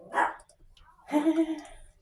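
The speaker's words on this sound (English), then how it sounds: "The dogs are over there playing." Dogs playing together indoors, one a young puppy, giving a couple of short sharp barks and yips with a brief whimper, fairly close, amid quiet household sounds.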